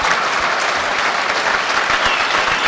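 A standing audience at the ladies' All-Ireland 4-wall handball final applauds the players after match point, a loud, dense, sustained wall of clapping with no letup.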